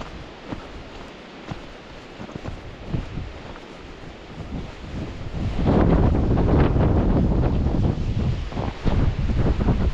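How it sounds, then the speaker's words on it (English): Strong wind blows outdoors and roars across the microphone, starting as a moderate rustling rumble and swelling into a loud, sustained buffeting gust for the second half. "you can still hear that wind, really blowing"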